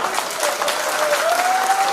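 Dense, steady applause from a large crowd at a political rally speech by BJP leader Kapil Mishra, loud and sustained throughout with no voices over it.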